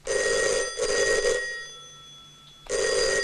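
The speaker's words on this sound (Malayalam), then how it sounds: "ആ ഫോൺ അറ്റൻഡ് ചെയ്യടോ" A telephone rings in two bursts, a bright steady electronic bell tone with a brief gap between rings, fairly close and clear with no talk over it.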